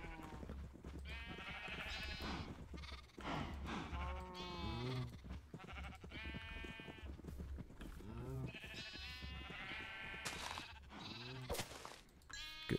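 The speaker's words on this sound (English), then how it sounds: "Now we have every color of sheep." Sheep in a video game bleat again and again, with long wavering calls overlapping one another clearly and close up, steady over a low background hum, and nobody speaks.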